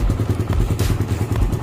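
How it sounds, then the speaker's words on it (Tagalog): Cold 2022 Suzuki Raider 150 carburetor engine at idle with a fast, steady metallic ticking from the timing chain, heard up close over the low engine rumble, with no voices. "Lumalagitik daw kapag hindi pa mainit yung makina."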